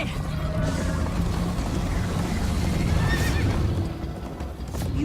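In a video game, a horse gallops with continuous rhythmic hoofbeats under a busy rumbling mix, with whinnying cries rising above it near the middle.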